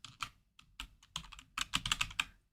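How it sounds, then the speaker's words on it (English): Close computer keyboard typing in uneven bursts, sparse at first and then a faster cluster of clacking keystrokes, heard alone while page designs are built in Power Apps. "I'm going to go ahead and start typing in these"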